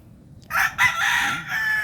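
A broodcock rooster crows loudly and close after a brief quiet start, its raspy call stretching out over the faint sound of broodhens.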